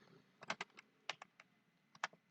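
Quiet keystrokes tap on a computer keyboard in short irregular clusters, close and clear against a faint background hum.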